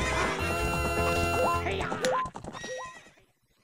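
Game horse Epona in Ocarina of Time neighs amid busy video-game music and effects, a bright whinny rising through the mix before the sounds thin out and fade to silence.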